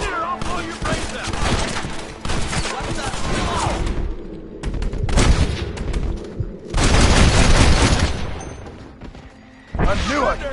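Dense bursts of gunfire from a 2010 Red Dead Redemption shootout, repeated volleys and rapid shots crowding together, loud and close, with brief lulls between the flurries and game voices shouting over the action.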